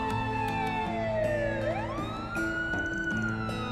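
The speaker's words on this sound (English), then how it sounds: "A police siren?" A police siren wails in a Trails through Daybreak 2 game scene, its rising and falling tone sweeping steadily over a music and ambience bed throughout.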